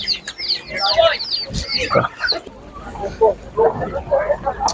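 Broiler chickens and other fowl at an animal market in Ivano-Frankivsk cluck and squawk close by in bursts, with people talking among them.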